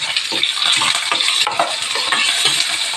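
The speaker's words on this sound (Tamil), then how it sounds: "நல்லா மிக்ஸ் பண்ணிக்கலாம் வெங்காயம் நல்லா கொஞ்சம் வதங்கணும்" Sliced onions and green chillies sizzle loudly in a pan while being stirred for semiya upma, steady frying hiss with repeated scraping strokes of a spoon against the pan, close and continuous.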